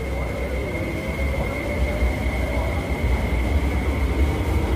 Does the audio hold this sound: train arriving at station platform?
yes